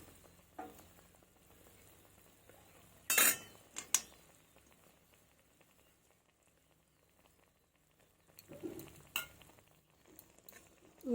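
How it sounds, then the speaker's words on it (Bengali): Jaggery being stirred into chutney in a pan, faint and mostly quiet, with a few sharp scraping and clinking utensil strokes in two separate bursts and a soft sizzle underneath. "গুড়টা দিয়ে দিয়েছি এবার ভালোভাবে নাড়াচাড়া করবো"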